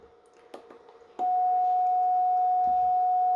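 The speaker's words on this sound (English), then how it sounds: "that is with the capacitor doing what's apparently the square wave" A breadboard synthesizer circuit with a capacitor from an electronic sound kit switches on a steady, loud square-wave tone that holds unbroken at one pitch, after a few faint clicks and soft handling noises.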